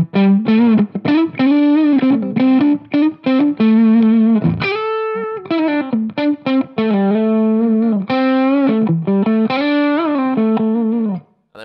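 Electric guitar played through a Laney Lionheart L5 Studio Class A amp with a Gemini pedal, driven and sustained melodic lines and bends, loud and close with no talking.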